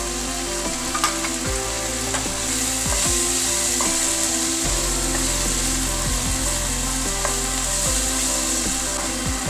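Freshly chopped tomato hits hot oil in a pan for a methi khatti meethi dal, crackling and sizzling loudly and continuously while a spoon scrapes and stirs. No voices are present.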